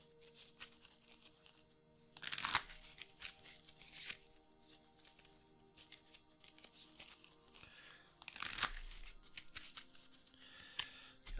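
Encounter cards for a card game are shuffled in two loud bursts of riffling, each followed by softer handling, light taps and shuffling sounds at close range.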